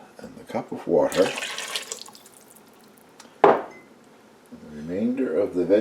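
A cup of water is poured into a pot of polenta and pearl barley soup as a brief gush, followed by a sharp clink of kitchenware, with a voice talking before and after.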